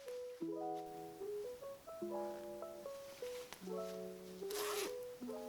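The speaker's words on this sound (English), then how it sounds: "And now we can zip up both sides and see how we did." A dress zipper is pulled up in a series of quick rasping strokes, close and clear, several short zips repeating with brief pauses between them in a quiet room.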